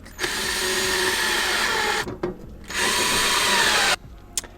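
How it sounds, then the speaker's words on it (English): A power drill whines steadily in two long, loud bursts separated by a short pause, followed by a brief final spin, inside a camper van. "So let's get drilling."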